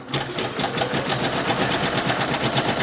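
Singer Legacy SE-300 embroidery machine sewing a tack down stitch, a loud, close, rapid and even rhythmic clatter that runs without a break, with only faint talk.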